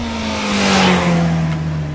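Honda CBR 650F inline four-cylinder motorcycle engine and exhaust, a smooth, steady drone that rises slightly in loudness and then settles, heard alone and close.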